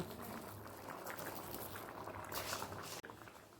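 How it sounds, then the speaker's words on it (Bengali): Mung dal with mixed winter vegetables bubbles steadily in a pot, a close, even patter of boiling liquid that carries on alone with a brief knock near the end. "ডালটা ফুটে গেছে"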